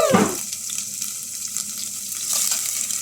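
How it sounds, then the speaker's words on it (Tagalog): Onion and garlic sizzle steadily in hot oil for a sautéed vegetable dish, the frying hiss constant throughout, with a brief clatter at the very start. "Umpisahan na natin maggisa ng sibuyas at bawang."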